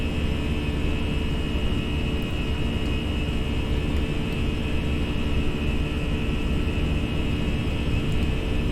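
Aircraft engines at takeoff thrust produce a loud, steady, dense roar with a constant whine, heard from inside the plane with no voices.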